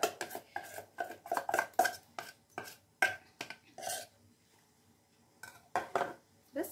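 Mung dal batter is scraped and transferred from a mixing bowl into an oiled pot, heard as a series of close metal spoon clinks and scrapes against cookware in uneven bursts, with quiet gaps between.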